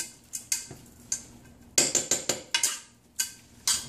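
A spoon clinks repeatedly against a pot or bowl while stirring salt into cooking ingredients for camarón enchilado, with a dozen or so sharp, close metallic taps in an uneven rhythm and no talking.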